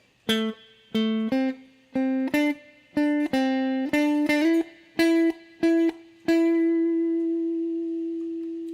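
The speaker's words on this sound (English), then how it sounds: "that last phrase sounds like this with the slide" A clean electric guitar plays a bluesy phrase of about a dozen plucked notes, sliding up between pitches, ending on one long ringing note that slowly fades.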